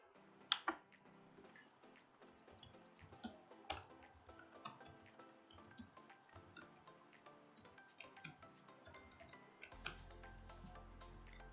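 Fingers tap steadily on a computer keyboard, a continuous run of quiet, close clicks with a few sharper keystrokes, no voices over it, and a low hum comes in near the end.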